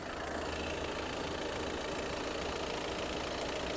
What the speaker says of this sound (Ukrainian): Моторчик працює дуже гарно.